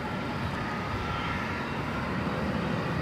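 A jet airplane departs the runway at DFW Airport, a steady broad roar heard from a distance throughout the short moment.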